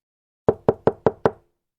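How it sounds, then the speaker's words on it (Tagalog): Five evenly spaced knocks on a house door, close and loud, sounding alone in about a second with silence before and after. "agad siyang kumatok sa kanilang bahay"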